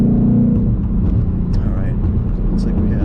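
A Ford Mustang GT's engine drones steadily and close at highway acceleration through a second-to-third gear shift, a dense continuous rumble with no clear break.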